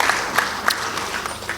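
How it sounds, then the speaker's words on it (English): An audience at a business forum applauds, a steady mid-level wash of many clapping hands with a few sharper individual claps standing out, sustained without speech. "And you give him a big applause"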